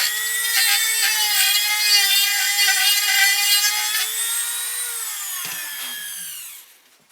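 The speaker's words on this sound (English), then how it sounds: "So we'll drill this hole in here so it's ready." A power drill whines steadily at close range boring a hole in wood, its pitch dropping as it winds down and stops near the end.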